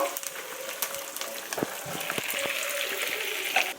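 Fresh green curry leaves hiss and sizzle in hot oil for mango pulihora, a steady crackling fry with scattered sharp pops over about four seconds, close and moderately loud.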